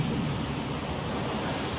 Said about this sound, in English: that water is loud.